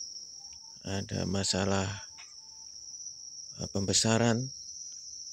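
Crickets on a cricket farm chirp in a continuous high, steady trill that runs throughout, under someone speaking in two short bursts.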